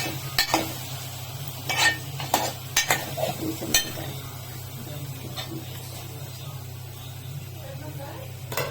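Okra and prawn curry is stirred in a pan, giving intermittent scraping and clinking strokes of a utensil against the pan over a low steady hum, with a faint bubbling simmer between the strokes.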